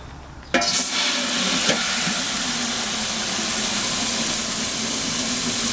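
Water gushes from a garden hose with a metal attachment into a container holding a tablespoon of all-purpose fertilizer per gallon, a steady broadband rush that starts abruptly and runs on evenly with no talk.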